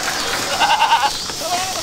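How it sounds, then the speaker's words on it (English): Goats bleat a few times on a farm where does and this year's kids are kept, short wavering calls heard at moderate distance beneath a person talking. "You guys can kind of see some of the goats we kept back."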